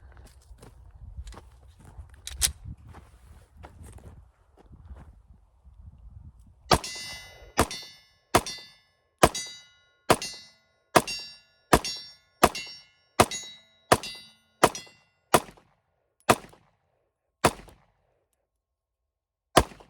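A Palmetto State Armory Dagger pistol is fired at steel targets in a string of about fifteen shots. Each sharp report is followed by a ringing clang from the target, and softer handling noises come before the shooting starts.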